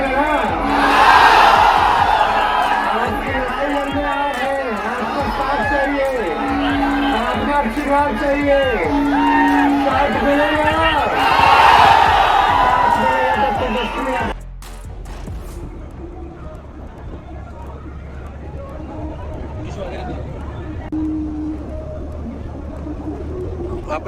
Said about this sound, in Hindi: बिहार में तेजस्वी ने निकाली जन विश्वास यात्रा, जिसमें भयंकर भीड़ देखी गई।